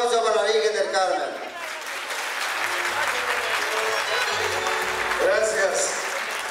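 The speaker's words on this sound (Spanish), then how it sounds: "pido un fuerte aplauso para la Virgen del Carmen" Loud crowd applause for the Virgen del Carmen at an evening festival in Entre Ríos, a dense continuous wash of clapping from a large audience that holds steady throughout, with a voice heard briefly at the start.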